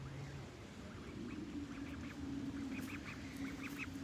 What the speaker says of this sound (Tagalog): Oh, duck!